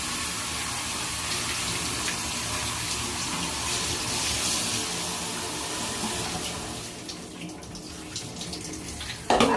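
Shower water runs steadily from the head during a hair wash day, a dense even hiss that thins slightly toward the end before a brief clatter.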